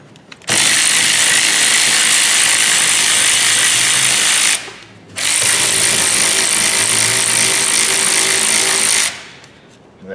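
Brake caliper bolts on a Hyundai Elantra's rear brake are spun off with a power tool, two loud, sustained buzzing runs of several seconds each separated by a short pause, close up.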